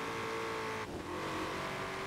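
A stock, untuned car accelerates hard in the racing game Forza Horizon 4, a loud continuous engine roar with a brief dip as it shifts before climbing again.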